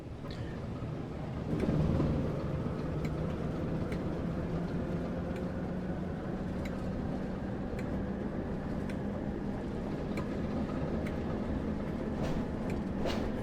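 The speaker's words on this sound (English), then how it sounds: "I'm now throttling up" A British Rail Class 08 diesel shunter in Train Sim World throttles up at Blackpool North, giving a steady low engine drone with a faint lift in power near the start, alone and continuous.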